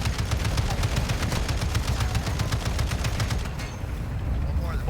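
Rapid automatic gunfire in Call of Duty: Modern Warfare 2 rattles off in a fast, steady burst from a helicopter engagement, then stops with a short tail near the end, with a faint voice underneath.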